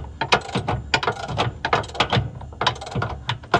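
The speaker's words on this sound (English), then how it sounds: "This side here is just to hold the end of the bolt, not to spin while I'm spinning on this side." A wrench ratcheting and spinning a bolt on a car's rear control arm with a 17 millimeter socket, giving quick irregular clicking bursts, close and clear, with no talking.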